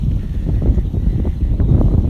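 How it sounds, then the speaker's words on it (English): Wind buffets an outdoor spot near a train bridge by a zoo, a loud low gusty rumble of wind noise across the microphone with uneven surges. "it is quite windy"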